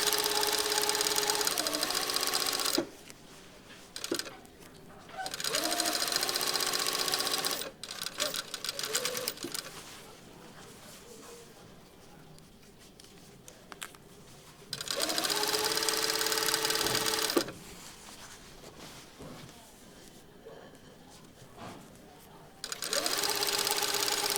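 A sewing machine stitches a shirt sleeve and side seam at 5 mm foot width in several loud, steady whirring bursts of a few seconds each, separated by quieter pauses with faint handling sounds.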